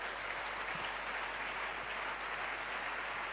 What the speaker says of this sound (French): Acclamez-les, acclamez-les.